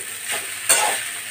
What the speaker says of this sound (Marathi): मिक्स करून घ्या